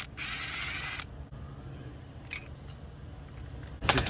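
Ratchet work on an LS3 engine, backing off 15 mm bolts from a wiring harness bracket near the valve cover; a loud burst of rapid clicking opens, followed by quieter shop noise and a few brief metallic ticks.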